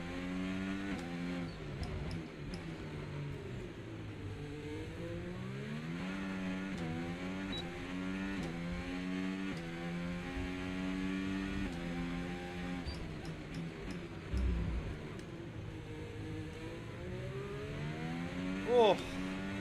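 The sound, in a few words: F1 car engine driving a lap in F1 25 video game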